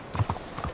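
Horse hooves clip-clopping in Red Dead Redemption 2, a quick series of soft, close hoof thuds in an uneven walking rhythm, no talk.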